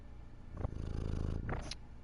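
A domestic cat purrs close by, a low, continuous rumble that holds steady through the clip with no talking.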